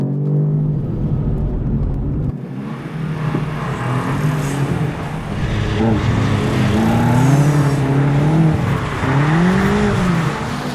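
BMW M5 Competition sliding on the Bedford Autodrome track, loud close engine roar that rises and falls through an upshift mid-skid, with tyre noise under it.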